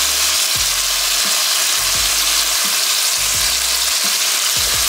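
Chicken pieces with crushed garlic fry loudly in a pan, a dense, steady sizzle with periodic low thumps of stirring or shifting in the pan, and no voices.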